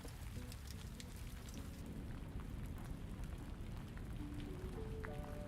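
Rain from a sound effect in a video game level editor, a quiet, steady patter of drops with a low rumble beneath, continuous and unchanging throughout.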